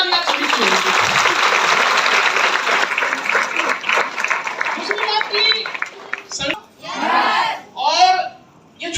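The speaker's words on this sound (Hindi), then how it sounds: "एक बार जोरदार ताली आप सभी के लिए।" A hall audience at a large AWPL business seminar in a Raipur hotel gives loud, sustained applause for several seconds. The clapping fades into scattered cheers and raised voices near the end.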